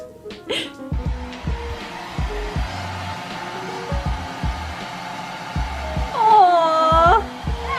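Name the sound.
hair dryer blow drying a puppy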